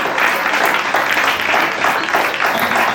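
A church congregation at a couples' seminary claps and applauds together, a loud, steady, dense roar of many hands that fills the space throughout.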